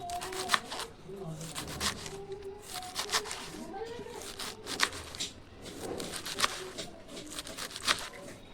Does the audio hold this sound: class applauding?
no